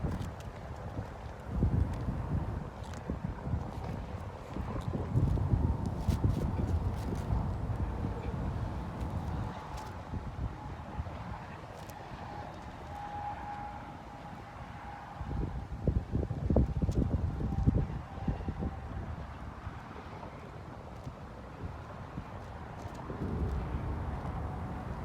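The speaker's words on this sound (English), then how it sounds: "It's like it's windy." Gusty wind buffets the microphone at a campsite in low, rumbling surges that swell and fade across the clip, with a steadier whistle beneath and no talking.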